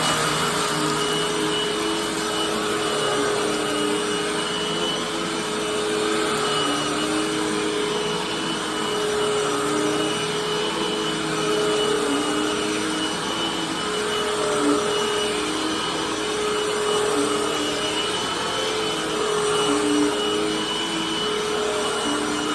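Hoover Tempo vacuum cleaner running continuously at a steady pitch, a loud even motor whine and airflow roar with no change in speed and no talk.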